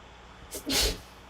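A single short, sharp sneeze bursts out close by, a brief breathy intake followed by a loud hissing release lasting well under a second.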